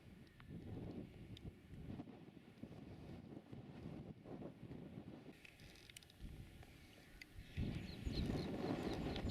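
Gusty wind rushes and buffets the microphone on open, bleak British moorland during a summer hiking and wild-camping trip, rising and falling throughout and strengthening toward the end, with no one talking.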